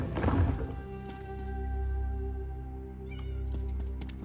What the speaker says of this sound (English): Sounds like a cat somewhere.